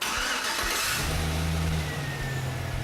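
A car engine cranks and catches during a charging system and alternator test, a steady mid-pitched engine drone settling in after a rough start, loud and close with a broad hiss over it.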